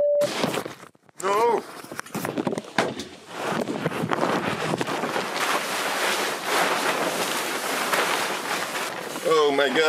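Loud gusting wind buffets the microphone with rushing water and rain noise around a boat whose sail has blown off, and brief voices cut in at the start and end.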